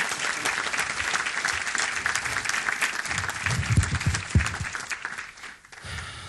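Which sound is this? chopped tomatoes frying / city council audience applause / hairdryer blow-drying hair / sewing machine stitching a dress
city council audience applause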